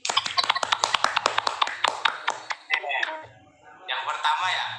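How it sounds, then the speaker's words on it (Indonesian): In a fifth-grade classroom, students clap for a classmate in a quick burst of sharp, close claps that fades out, followed by a short stretch of talking. "Oke, tepuk tangan lagi untuk Yunda."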